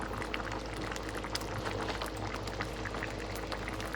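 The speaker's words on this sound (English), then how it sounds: "We're just gonna let it simmer in on this side." A pot of brown stew meatballs simmers on the stove, giving a continuous close bubbling and gurgling with small popping bursts, steady throughout and alone without talk.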